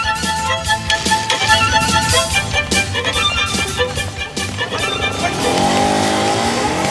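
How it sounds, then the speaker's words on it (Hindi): A car starts up and speeds away with revving and squealing tires, loud and close, mixed with busy background music and a few voices. "अब गाड़ी स्टार्ट करना।"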